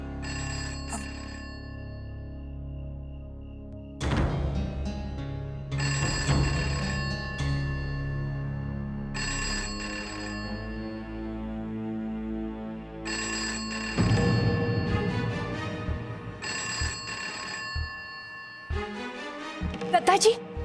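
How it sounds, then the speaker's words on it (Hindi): A landline telephone in a household rings in repeated electronic bursts, several evenly spaced rings over about twenty seconds, heard amid a background music score with a short vocal sound near the end. "लैंडलाइन पे फोन करता हूँ।"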